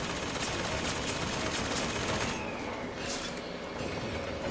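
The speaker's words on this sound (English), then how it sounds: "now you're getting hit by a turret" A turret in Bioshock Infinite fires a dense, rapid stream of gunshots, loud and continuous, with the barrage thinning slightly partway through.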